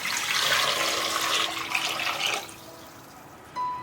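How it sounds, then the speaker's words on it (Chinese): Clean water gushes into a pressure cooker over blanched pig trotters for a home-style soup, a loud steady pour that stops after a couple of seconds, followed by a faint clink. "洗好了放到高压锅里，加入清水没过猪脚"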